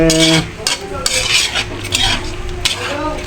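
Butter garlic shrimp are stirred and flipped in a sizzling pan, with a utensil scraping and clinking against the metal in several quick, loud strokes over a constant frying hiss.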